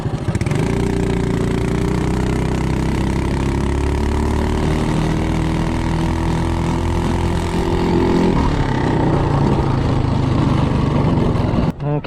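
A Coleman CT200U-EX minibike fitted with a VM22 carburetor revs loudly and climbs in pitch under acceleration, then eases off and drops lower before cutting out at the end, heard up close with no talking.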